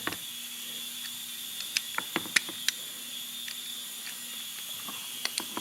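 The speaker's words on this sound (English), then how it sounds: "I just like to snug it down a little bit more than I can do with my fingers" A wrench snugs down a part on an old Briggs & Stratton Industrial Plus engine, giving scattered light ratcheting clicks and small metallic ticks over a quiet hiss.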